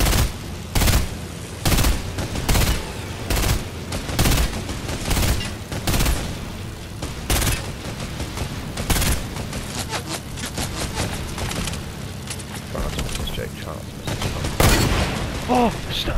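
Bursts of gunfire from the video game Fortnite, with repeated sharp shots and rapid volleys throughout, loud and close, with players talking over the action.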